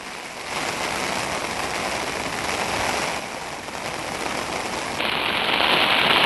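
Heavy downpour at Thirthahalli near the swollen Tunga river, a dense continuous hiss of rain on surfaces that swells louder toward the end, with no voices.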